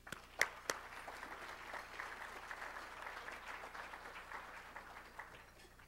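An audience at a biotech industry annual meeting applauds to welcome a speaker to the stage: steady, moderately distant clapping lasting several seconds, with a couple of sharper claps near the start.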